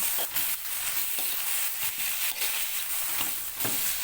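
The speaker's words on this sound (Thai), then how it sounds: "แล้วก็ผัดคลุกเคล้าให้เข้ากัน" Fried rice being stir-fried in a pan with oyster sauce, soy sauce, sugar and chili sauce, giving a steady loud sizzle broken by repeated scraping stir strokes, close by.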